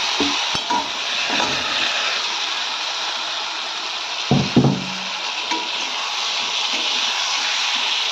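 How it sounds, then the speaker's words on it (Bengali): Potatoes drop into spices already fried in oil, giving a steady broad sizzle with a few brief knocks and clatters of a spoon or pot in the middle, close and fairly loud with no talking. "মশলাগুলো কষানো হয়ে গেছে, তেল ছাড়ছে। আমি এর মধ্যে দিয়ে দেবো আলু।"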